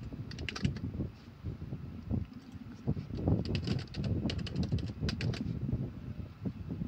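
A password is typed on a computer keyboard in quick bursts of light plastic key clicks, with short pauses between them, close and soft over a faint low rumble.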